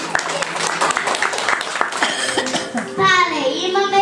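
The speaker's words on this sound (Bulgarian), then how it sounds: "Аплодисменти, браво на теб!" A first-grade class at a school letters celebration breaks into quick applause for a few seconds, brisk and close, before a voice and singing take over.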